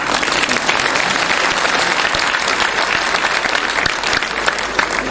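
Steady, dense applause from a large audience at a Jain religious discourse in Vidisha, a continuous wash of many hands clapping with no pauses, loud and close throughout.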